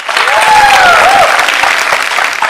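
Studio audience applause on a Telugu TV comedy show, heard as loud, dense, steady clapping from a crowd filling the whole stretch, with a few cheers or whistles rising over it at the start.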